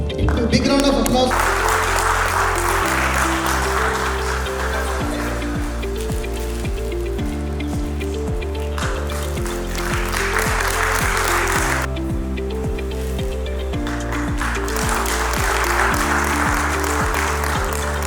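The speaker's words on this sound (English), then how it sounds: "A big round of applause." An audience at an investment meeting applauds steadily while a guest of honor is invited onto the stage, the clapping running continuously under loud rhythmic background music.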